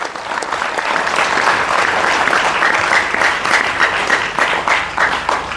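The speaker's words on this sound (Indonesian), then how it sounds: "Tepuk tangan untuk santri." A large crowd at a National Santri Day 2024 event claps loudly and continuously for the santri, a thick, sustained roar of many hands that stays strong to the end, with no voices over it.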